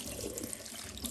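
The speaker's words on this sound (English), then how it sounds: "So wash it with running water, wash off those mealybugs away." Tap water runs steadily over an Astrophytum asterias Superkabuto cactus being washed free of mealybugs, a close, continuous splashing gush into a sink.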